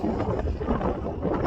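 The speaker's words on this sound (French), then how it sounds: "il y a beaucoup de vent ici" Strong wind buffets the microphone with a loud, continuous rumbling roar and gusty fluctuations at the Col Agnel mountain pass, no voices.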